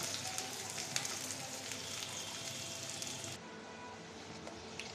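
Chopped garlic and onion frying in hot oil in a pan, a steady close sizzle and crackle that drops slightly in intensity partway through.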